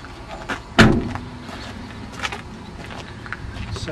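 Door of an LPG-converted Citroen Berlingo van shut with one sharp, close thud near the start, followed by quieter rustling and handling sounds.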